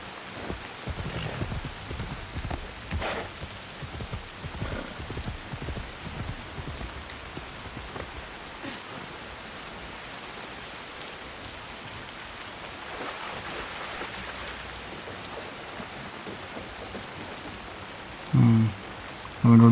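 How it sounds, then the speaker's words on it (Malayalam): Steady rainfall pours down in the video game Assassin's Creed Shadows, a continuous broadband hiss of drops on surfaces, fairly loud and unbroken, with a few brief heavier thumps near the end. "എന്നാ മഴയാ"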